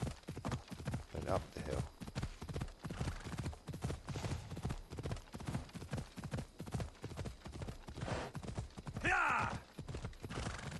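Horse hooves clip-clop in a steady rhythm through a hilly landscape in the video game Assassin's Creed Odyssey, moderately close and continuous, with someone talking over the hoofbeats and a brief whinny-like cry near the end.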